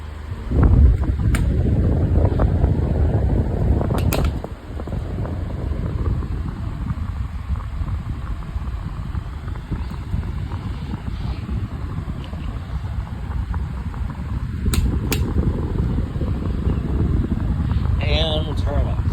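A Deluxe 16-inch oscillating fan blows air with a loud, steady rushing whoosh that swells and eases as it turns. A person talks briefly over it near the start.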